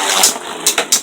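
A Beyblade ripcord launcher fires in a quick, close burst of ratcheting zips and whirring, with several sharp rasping pulls and clicks packed into about a second.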